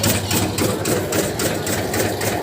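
An automatic tobacco-shredding machine runs loud and close with a fast, even, repetitive chopping clatter over a steady motor drone.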